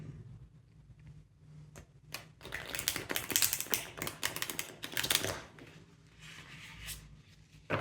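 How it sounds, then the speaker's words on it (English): A deck of tarot cards being shuffled by hand, giving dense papery riffling and flicking bursts in the middle, fairly close and moderately loud, with quieter handling before and after. "I'm just going to shuffle the deck in order to refresh the energy a bit"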